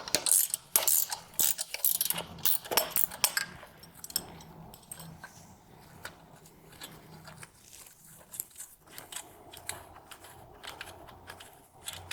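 Ratchet wrench working the bolt and nut off a personal watercraft winch arm, quick clicking bursts of pawl ticks close up, busiest at the start, then sparser clicks and small metallic handling noises.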